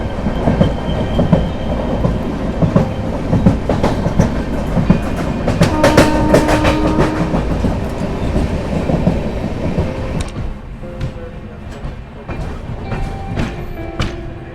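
The Jammu Rajdhani Express rolls along the rails among hills on a foggy morning, a loud steady rumble with rhythmic clickety-clack and some metallic squeal that eases off toward the end.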